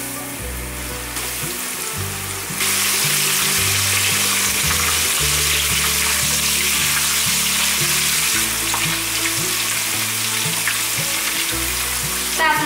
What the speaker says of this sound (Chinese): 把杏鲍菇放下来炸。